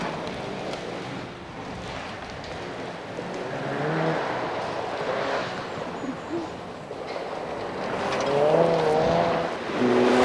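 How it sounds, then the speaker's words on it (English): A Cosworth rally car runs over rough, bumpy ground at a 1989 national rally, its engine note rising and falling under a continuous loud roar of wind and road noise, with a short higher whine near the end. "Just look at this Cosworth, absorb bumps which would demolish anything else."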